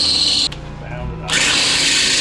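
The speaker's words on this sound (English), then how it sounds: "Let's drill one more and check it." A power drill boring a hole during a shop job, a loud close whine that cuts out briefly, leaves a quieter low hum for under a second, then surges back at full speed.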